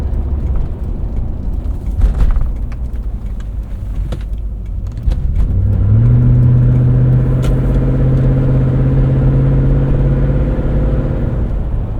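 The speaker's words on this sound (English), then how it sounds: "I think we created an exhaust leak in your LX 470." A 2000 Lexus LX 470 engine with an exhaust leak and deleted muffler idles with a deep, rough rumble that swells louder and steadier partway through, a raspy drone continuing to the end.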